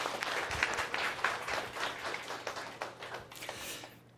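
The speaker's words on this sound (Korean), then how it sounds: "우리 환영의 박수를 한번." A church congregation claps in welcome during a Sunday service, steady applause of many hands filling the room for several seconds, fading slightly toward the end with no one speaking over it.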